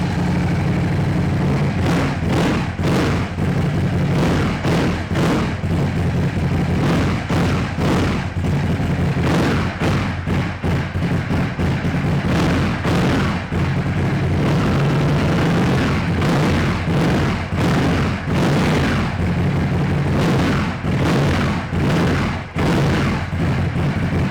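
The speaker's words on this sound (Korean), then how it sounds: "배기 사운드가 굉장히 파워풀한" A tuned 2019 Ducati Scrambler 1100 Sport motorcycle with a powerful exhaust runs loud and close, a continuous roar broken by sharp repeated pulses and booms, with no talking.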